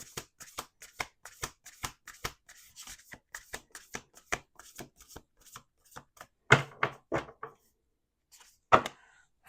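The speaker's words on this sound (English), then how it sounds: "Last shuffle." Playing cards shuffled close up at a table, a series of rapid riffles and softer bridging flutters coming in bursts, with a couple of louder final riffles and brief pauses between them.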